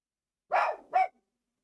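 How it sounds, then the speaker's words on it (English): A dog gives two sharp barks in quick succession, close and loud, with silence before and after. "I can't get that dog to shut up for nothing."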